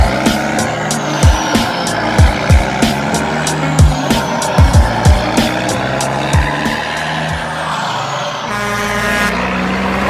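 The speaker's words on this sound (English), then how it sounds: "runaway diesel, what I mean by that is where the engine decides to run away on its own" A runaway diesel engine racing uncontrolled, its roar steady and loud beneath a series of sharp, repeated bangs and clanks scattered across the clip, with a high whine building near the end.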